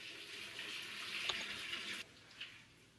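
Water pours steadily into a garden-soil aquarium, a soft, even splashing stream that stops abruptly partway through, followed by faint drips and trickles.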